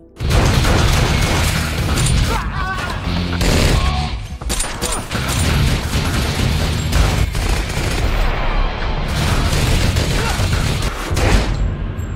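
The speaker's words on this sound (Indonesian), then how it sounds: "Terjadilah baku tembak yang sangat membrutalkan di sini." Sustained, loud gunfire throughout an action-movie shootout against a Chinese mafia boss's henchmen, with dense bursts of shots, booms and clatter, and brief lulls near four and nine seconds.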